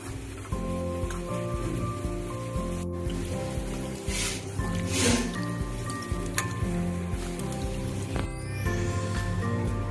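Drumstick flowers soak and get swished in a bowl of water, giving soft sloshing, dripping and squishing splashes that recur irregularly throughout, close by with some background hum.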